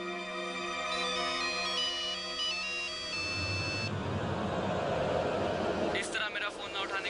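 A mobile phone plays a bright electronic ringtone melody, repeating its tones for a few seconds before cutting off into a rougher mix of background noise.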